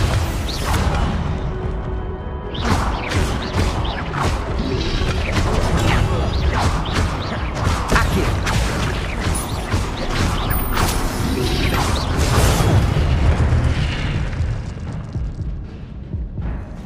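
Spell combat in Hogwarts Legacy, with Confringo blasting-curse explosions breaking out as repeated loud crashes, booms and whooshes over a dense, busy mix of game effects.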